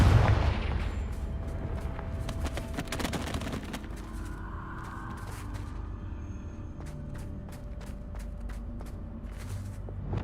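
A Confringo fire blast spell goes off in Hogwarts Legacy with a strong boom at the outset, followed by scattered sharp pops and crackles and a lingering low rumble over ten seconds.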